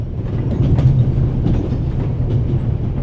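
A train in The Raven Remastered rolls along steadily, a continuous low rumble with faint rhythmic clatter throughout, loud and close with no talk over it.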